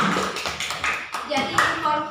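Classmates clap for a primary-school pupil in a thematic lesson class, a brief burst of scattered hand claps mixed with children's voices and talk throughout.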